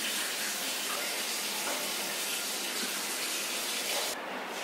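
Shower water runs steadily as a close, even hiss of spray that holds unchanged for several seconds before dropping off sharply at the end.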